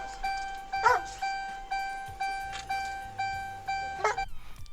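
A dog barks in short bursts, three or four sharp yelps spread over a few seconds, sitting above a steady, pulsing tonal hum.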